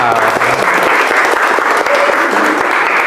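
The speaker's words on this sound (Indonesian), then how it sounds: "Oke, tepuk tangan untuk kita semua." A group of teachers in a training session claps together after an ice-breaking exercise, loud close applause from many hands sustained evenly throughout, with faint voices mixed into the clapping.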